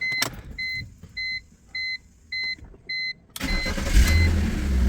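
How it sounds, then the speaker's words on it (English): A 2004 BMW 330i E46, fresh from coil, spark plug, MAF and O2 sensor work, gives five evenly spaced dash chimes before the starter whirs and the engine catches and settles into a close, steady idle. "All right, let's start the car."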